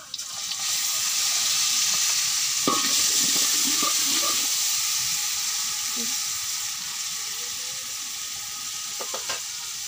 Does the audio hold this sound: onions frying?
yes